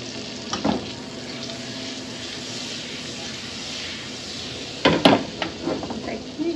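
Vegetables frying in butter with turmeric and a little salt in a hot pan, a steady close sizzle punctuated by a few clinks and scrapes of stirring.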